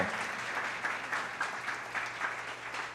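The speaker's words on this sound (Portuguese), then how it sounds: "Uma salva de palmas para o nosso querido" Church congregation clapping for a pastor couple, a moderately quiet, continuous patter of applause with a faint low hum underneath.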